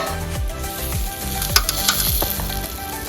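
Ariselu, Telugu Sankranti rice-flour sweets, frying in hot oil with a steady close sizzle, broken by a few brief scraping and clinking pokes as they are turned and pressed.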